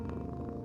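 A cat purrs in the video game Before Your Eyes, a short, steady, close rumble with soft rhythmic pulses, heard alone.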